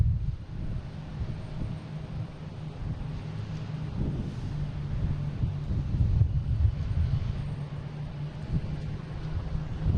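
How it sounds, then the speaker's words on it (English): Steady low rumble of a Delta Embraer E175 regional jet arriving from Nashville at Boston Logan, a continuous engine drone heard from a distance with a gentle swell in the middle and no voices. "Here's Delta from Nashville, flight 5842 at E175."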